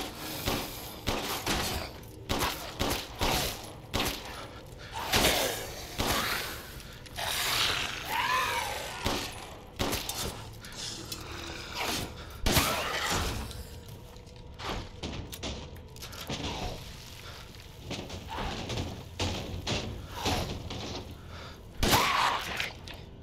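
Repeated shotgun blasts and heavy thuds in the survival horror game Resident Evil Village, sharp broadband bangs at irregular intervals over about twenty seconds amid clanking mechanisms and game ambience, no speech.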